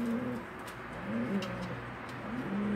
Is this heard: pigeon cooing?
yes